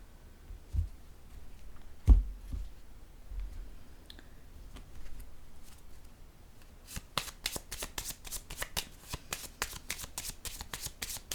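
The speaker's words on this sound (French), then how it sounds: "Je vais piger une autre carte ici." Playing cards are drawn and then shuffled, a few soft handling taps followed by a rapid, close run of crisp riffling clicks in a quiet room.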